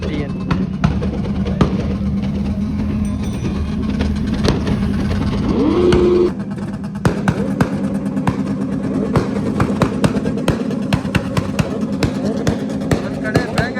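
Bangers and superbikes revving at a drag race meet, loud engine roars with sharp pops and bursts throughout, a sustained rising rev near the middle, with crowd noise and voices underneath.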